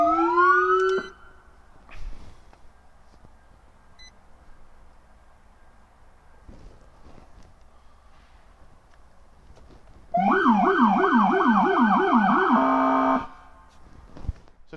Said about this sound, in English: when the warning lights are on and the siren is active, they have the low frequency siren also onto that